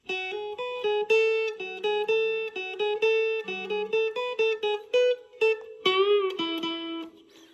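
A clean, melodic guitar lick of plucked single notes with a few bends and slides, played alone at a moderate pace, from the song Cold Rain and Snow.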